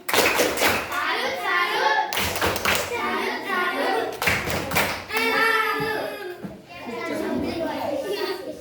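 Schoolchildren in class clap out a rhythmic group pattern, bursts of sharp claps in short clusters alternating with the kids' chanting voices, lively and close.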